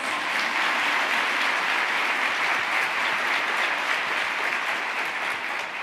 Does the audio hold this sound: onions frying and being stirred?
no